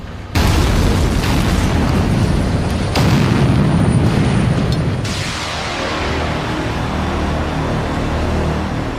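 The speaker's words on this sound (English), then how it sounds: "So they have to be dug out the old-fashioned way, by drilling and blasting" Rock blasting inside a tunnel excavation sets off a sudden loud boom followed by heavy rumbling, with further blasts surging a few seconds apart before a long reverberating roar slowly fades.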